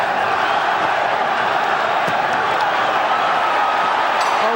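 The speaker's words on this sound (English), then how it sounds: "The crowd chanting for Julio Caesar Chavez" A boxing arena crowd chanting for Julio Cesar Chavez at the Manny Pacquiao vs. Erik Morales fight: a dense, continuous roar of many voices, loud and unbroken from start to finish.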